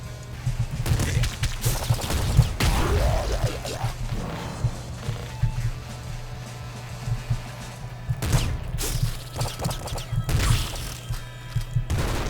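Repeated booming blasts and crashes from the PC game Nuclear Throne, irregular and dense, with bursts of gunfire-like cracks over a steady low hum.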